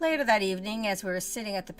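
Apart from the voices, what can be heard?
None of the usual background noises is heard.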